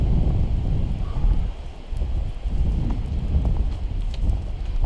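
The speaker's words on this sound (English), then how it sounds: "We just can't seem to get out of this wind though." Heavy wind buffets the microphone on a snowy winter mountain hike, roaring in continuous close gusts with one brief lull partway through.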